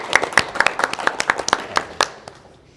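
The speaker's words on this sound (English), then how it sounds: "Can everyone give Megan another round of applause?" A small group claps at a student government meeting, a sparse round of distinct hand claps, each sharp hit clearly separate, thinning out and fading within about three seconds.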